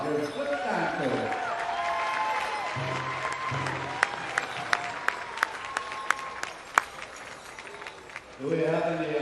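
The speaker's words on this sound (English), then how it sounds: "Let's give them a big round of applause." Audience applause for dancers at a powwow, a sustained wash of clapping from a crowd with a few sharp louder claps standing out, voices and an announcer speaking over it near the start and end.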